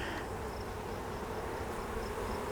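Honey bees buzzing inside an open hive, a steady, soft, continuous drone close by with no talking.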